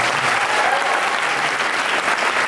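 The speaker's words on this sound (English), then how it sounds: "that deserves another big round of applause" Steady, dense applause from a student audience for AR Rahman at NUS Singapore, a continuous wash of clapping heard up close throughout.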